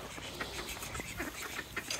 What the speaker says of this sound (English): So the ducks, we got Bubbles and her boyfriend